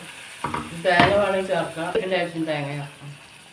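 Spoon scraping and stirring curry through a sizzling pan, with a person speaking over the cooking sounds.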